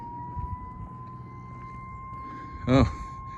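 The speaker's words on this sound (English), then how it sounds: "That's the alarm for the release of water from the dam." A steady, distant dam water-release alarm siren at a Missouri campground holds a single sustained tone throughout, with a brief voice breaking in near the end.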